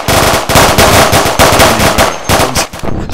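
Loud, sustained automatic gunfire in the military shooter game ArmA 2, with rapid bursts rattling continuously and close throughout.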